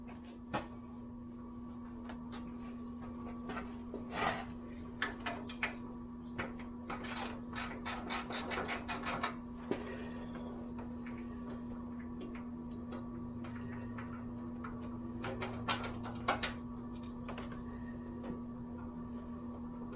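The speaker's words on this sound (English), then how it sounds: "Now, I'm going to loosen those other two bolts." Hand tools work loose the bolts on a motorcycle fuel tank, giving irregular scrapes and clicks and a fast run of ratcheting clicks midway, heard over a steady background hum.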